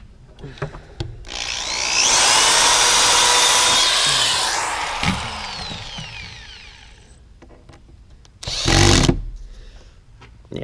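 A power drill drives long screws into wood while building a hay wagon, whirring up in a sustained burst, then clattering through ratcheting clicks, followed by scattered knocks and a second short, loud whir.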